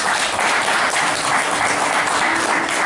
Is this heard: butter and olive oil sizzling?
no